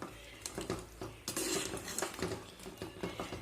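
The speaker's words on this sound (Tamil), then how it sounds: "நல்லா கிளறி விடுங்க." Spoon scraping and clinking against a pot while a simmering salt-meat curry is stirred, a quiet run of irregular metallic taps and scrapes close by.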